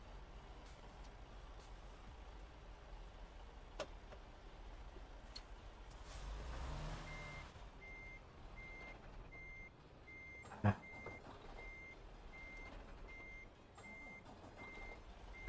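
A gravel-loaded truck backs up with steady reversing beeps repeating at an even pace over a low engine rumble, plus a burst of air brake hiss midway and a sharp clank later.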